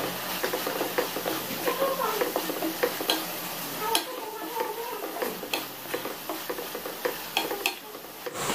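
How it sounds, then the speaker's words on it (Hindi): Mushrooms fry with spices for mushroom pasta, a soft sizzle under frequent clicking, scraping stirs of a spoon against the pan, close and fairly busy throughout. "अब मशरूम और सारे मसाले अच्छे से फ्राई हो चुके हैं"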